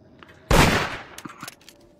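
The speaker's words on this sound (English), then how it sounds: "I hear gunshots." A sudden loud burst of gunfire from the video game Murder Jar 2 hits hard and decays over about half a second, followed by a few quieter sharp shots.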